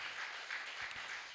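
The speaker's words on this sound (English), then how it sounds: "Let's clap for them as they go back." An audience at an academic health-financing symposium ceremony in Ghana applauds, a faint, even patter of many clapping hands heard from a distance.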